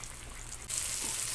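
Chicken teriyaki dropped into hot oil, a steady close sizzle that suddenly swells louder and brighter partway through and keeps frying strongly.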